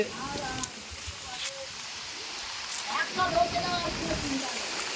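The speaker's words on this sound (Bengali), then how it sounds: "কিরম ঝড় বৃষ্টি সব হচ্ছে।" Rain falls outdoors during a storm, a faint steady hiss with a voice speaking over it.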